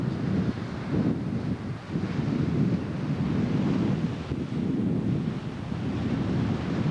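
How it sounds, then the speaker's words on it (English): Strong wind blows on an ocean coastline, a continuous loud, rumbling buffet against the microphone with gusty surges and no voices. "Boy, that wind's coming up."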